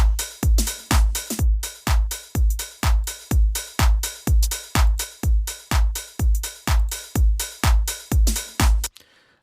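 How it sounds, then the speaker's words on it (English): Drum loop run through parallel New York-style compression, steady punchy kick and snare hits repeating about twice per second, loud and dense with no talking, ending abruptly. "This is parallel processing, or parallel drum compression, also known as New York compression."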